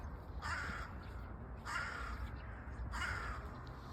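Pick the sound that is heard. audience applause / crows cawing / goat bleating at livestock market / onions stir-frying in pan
crows cawing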